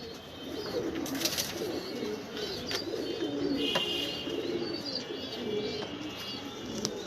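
Pigeons kept in a home loft coo softly and repeatedly, their low rolling calls overlapping close by, with a few faint chirps and light rustling mixed in and no talking.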